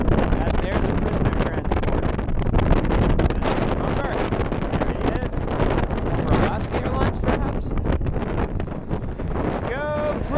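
Heavy wind in Atlanta buffets the microphone in constant rumbling gusts, a muffled roar filling the whole stretch with rustling bursts throughout.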